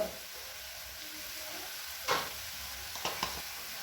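Cumin powder sizzling in hot oil in a pan for fried potatoes with poppy seeds, a soft steady hiss with a few brief louder crackles and stirring scrapes.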